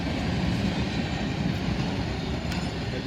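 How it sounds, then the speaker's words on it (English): A crude oil train led by four BNSF locomotives rumbles past at Oak Harbor, a loud, close, continuous roar of rolling cars and wheels. "Crude train here with 4 BNSF locos on the head."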